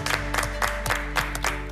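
A studio audience gives contestant Julien a short round of applause on a French pastry competition show, with bursts of clapping pulsing over a steady musical bed.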